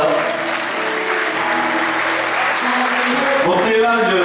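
Steady applause from an audience at a Turkish association's solidarity evening, during a birthday celebration, fills the room throughout, with a presenter speaking over the clapping.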